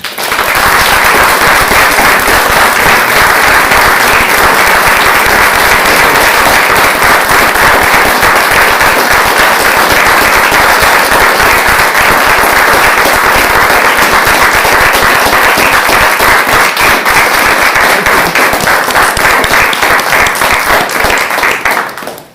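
Loud, sustained applause from a seminar audience fills the hall after a talk, dense clapping continuing without letup for over twenty seconds.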